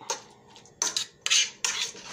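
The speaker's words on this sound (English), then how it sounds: "I'm gonna stir it up. Mash it up" A utensil stirs and mashes a thick salmon mixture in a bowl, giving three or four scraping, clinking bursts close up with short pauses between them and no talk.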